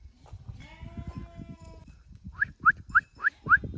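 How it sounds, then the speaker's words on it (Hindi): Sheep and goats from a large flock on a cold mountain slope near a deep ravine give a series of about five sharp, high bleats, fairly close, following a stretch of low rumbling ambience and a faint tonal hum. "ये देखो ये पहुँच गई भेड़ बकरियाँ"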